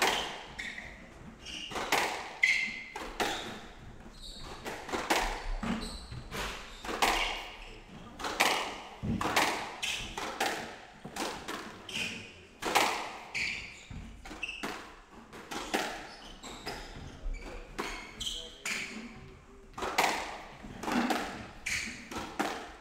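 Squash ball struck repeatedly during a professional PSA squash match, sharp thuds and taps echoing around the court in an irregular rally rhythm, steady and fairly loud throughout the clip.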